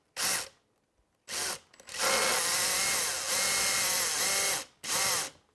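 A power drill bores holes to mount ballast weight, two short whirring bursts followed by a long sustained run with shifting load, then one more brief burst, loud and close with silent gaps between.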